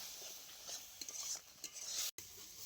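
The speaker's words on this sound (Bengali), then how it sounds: "অল্প জল দিয়ে মশলা খুব ভালো করে কষিয়ে নেব।" A ground spice paste with whole chillies, cumin, coriander paste, turmeric and a little water sizzles quietly in a pan, broken by light stirring scrapes and a brief dropout near the end.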